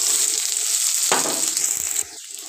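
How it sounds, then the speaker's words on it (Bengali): Oil added to a wok sizzles with a steady hiss, with a brief louder burst midway before the sound drops away near the end. "কড়াই পুনরায় তেল দিয়ে দেব।"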